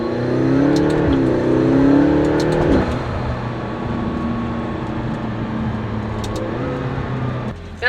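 A 2015 McLaren 650S in track mode revs hard and accelerates at close range, its engine note climbing and peaking before the throttle drops to a lower, steadier drone.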